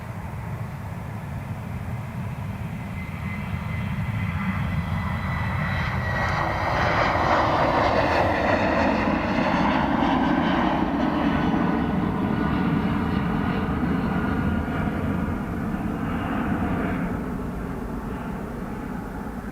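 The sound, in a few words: C-130 Hercules military aircraft departing Dublin Airport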